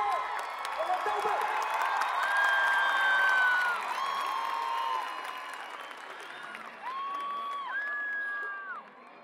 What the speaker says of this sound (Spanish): ¡Fuerte, fuerte, Chile, fuerte! ¡El aplauso!